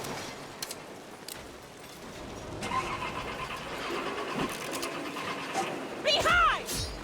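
In the video game Saints Row, a car engine cranks and turns over, then settles into a rising mechanical rumble. Game voices and clatter run beneath it, and a sharp tonal squeal comes near the end.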